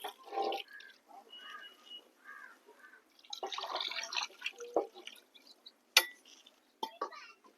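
Water is poured into a pan of rohu fish curry, making intermittent splashing and dripping bursts, close and fairly soft, with quiet gaps between pours and faint background sounds.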